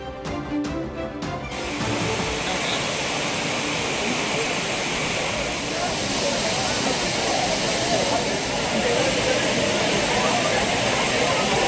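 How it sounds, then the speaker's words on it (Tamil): The main waterfall at Courtallam roars with a dense, continuous rush of falling water, loud and steady after a brief opening of other sounds. "ஆர்ப்பரிக்கும் பிரதான அருவியில் உற்சாக குளியலிட்டு மகிழ்ச்சி."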